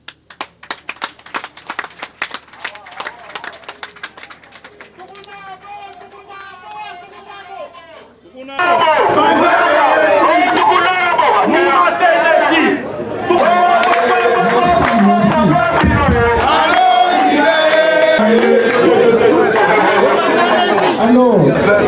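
Applause and crowd chatter fill a formal gathering, starting after a stretch of speech, then a dense, loud burst of clapping hands that carries on steadily to the end.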